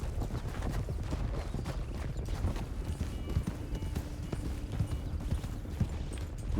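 Horses' hooves clop steadily in the Red Dead video game, a dense overlapping patter of several animals close by, continuing throughout with a faint neigh.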